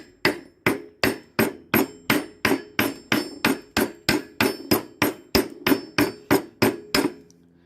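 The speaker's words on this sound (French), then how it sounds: "Pour voir si la soudure est réussie, tout simplement, on tape sur la soudure." A hammer tapping on a weld bead to test it, about twenty sharp metallic strikes at a steady, even rhythm, close and loud, each with a brief ringing decay.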